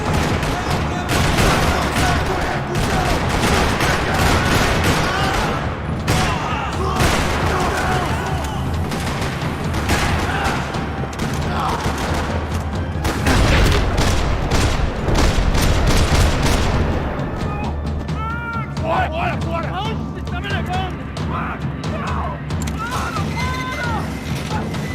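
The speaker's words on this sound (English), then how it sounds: "Another parking lot rattling with gunfire." Dense, rattling bursts of gunfire in a parking lot in the video game Max Payne 3 go on throughout, with mechanical clatter and sharp shots layered over a busy, loud background.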